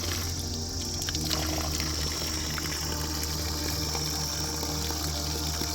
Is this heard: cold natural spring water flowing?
yes